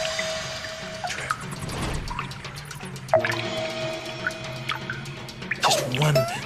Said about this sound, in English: Just one little drip at a time, one little drip at a time.